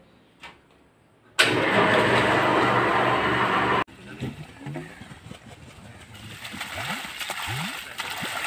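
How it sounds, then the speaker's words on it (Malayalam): A 3 HP electric water pump motor used to drain a pond kicks on abruptly after near silence, roaring steadily for a couple of seconds, then settles into rushing, splashing water with softer motor noise. "ഇതാണ് മോട്ടർ. ഇത് വിഷയ മോട്ടർ എന്ന് പറയും. മൂന്നിൻ്റെ മോട്ടറാണ്, നല്ല പവറായിരിക്കും."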